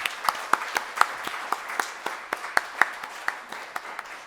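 Scattered applause from a small crowd at an annual report event, sparse individual claps at an uneven rhythm, moderately loud and close.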